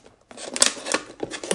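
Sharp scissors cut through a plastic water bottle in a quick series of close, crisp crunching snips.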